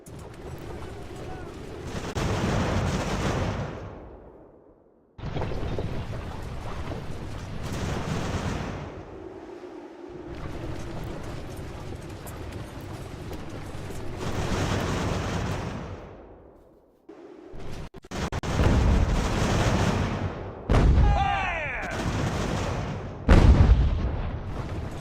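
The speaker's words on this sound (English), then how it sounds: "And the closer you bring your artillery or mortars in general, they're gonna do more damage to the enemy." Artillery and mortar fire in Ultimate General: American Revolution during the New York campaign, with repeated heavy booming volleys in several separate bursts and rumbling tails between short pauses.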